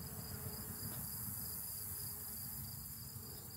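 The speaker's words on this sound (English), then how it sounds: "There's bees in here." Steady insect buzzing among brick piles on a 20-acre plot of land, a continuous dense drone that stays at an even level throughout, with no voices.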